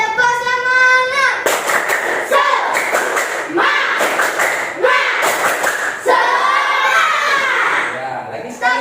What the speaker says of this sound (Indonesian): Biar semangat, kita melakukan tepuk semangat dulu.